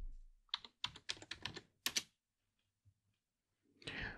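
Keys on a computer keyboard are tapped in a quick burst of close, crisp clicks, then a pause, a single faint click and a final short cluster of keystrokes, with no talking.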